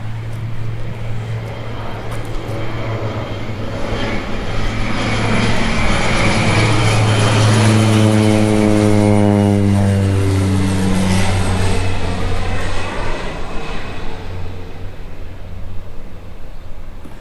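Crop duster airplane passing over a bean field, its propeller engine droning steadily, swelling loud overhead with a falling pitch sweep, then fading as it flies away.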